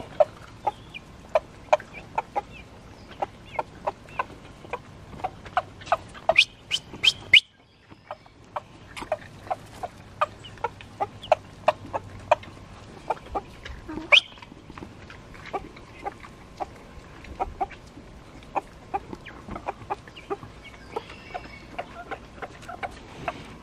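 Chickens cluck and scratch nearby, with scattered sharp pecking clicks and soft bird calls over a quiet outdoor background.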